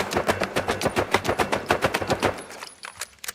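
Rapid gunfire from a weapon in The Finals practice range, a video game, played on an Akko MOD 007B HE keyboard with rapid trigger off: a fast, even string of loud shots, each distinct, thinning out toward the end.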